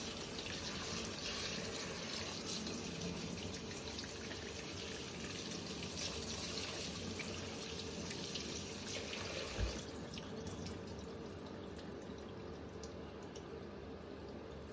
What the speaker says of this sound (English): My preference is to wash the rice once to remove some of the starch.